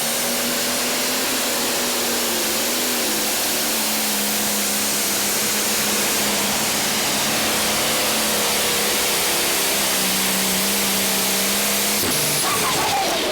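The McNasty John Deere 8410 pro stock tractor pulls at a tractor-pulling event, its engine a continuous loud roaring drone with a steady high whine that shifts slightly before dropping off near the end.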